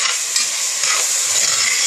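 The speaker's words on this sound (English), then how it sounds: "it's frying up nice and good." Sausage for jambalaya sizzles and crackles steadily in a hot pot, a bright continuous frying hiss heard up close.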